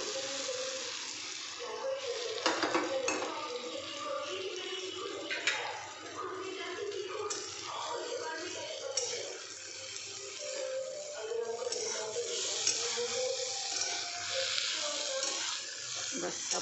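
Okra (bhindi) for a tomato masala bhindi dish sizzling in a hot pan, a steady, dense hiss with occasional stirring scrapes running throughout, close and fairly loud.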